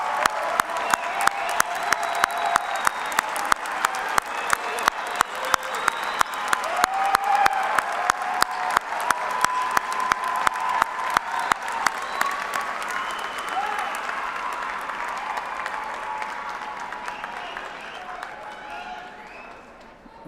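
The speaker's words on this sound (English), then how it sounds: "give them a big round of applause." Applause and cheering from a large commencement audience at a university fall graduation ceremony, sustained dense clapping that swells, then gradually thins and fades over about twenty seconds.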